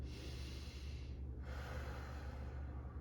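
A long, steady breath during a seated chair yoga routine, with a soft airy rush of inhaling and exhaling over a constant low background hum, heard close and without talking.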